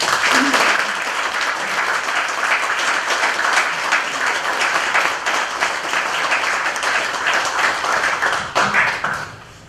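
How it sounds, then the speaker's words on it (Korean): A lecture audience gives a big round of applause to welcome a visiting professor onstage, dense continuous clapping that holds steady for nearly ten seconds before dropping off abruptly at the end. "큰 박수를 맞아주십니다"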